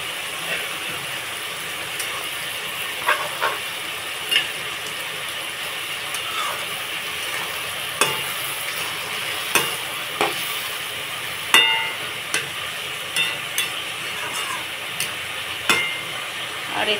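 Shrimp simmering in a pan with a little added water, for a shrimp and ash gourd dish, make a soft, continuous bubbling sizzle broken by clicking, scraping stirs at irregular intervals.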